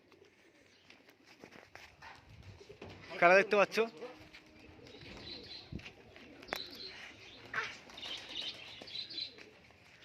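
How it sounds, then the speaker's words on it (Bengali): Three Giribaz pigeons are released and take off in a short burst of wing flapping, followed by scattered coos and chirps from nearby birds while someone talks. "দেখো তিনটে পায়রা এখন ছোড়া হবে"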